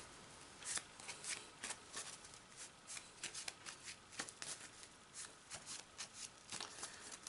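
Yu-Gi-Oh trading cards shuffled by hand, a quiet, close run of quick riffling flicks in an uneven rhythm, with no talking.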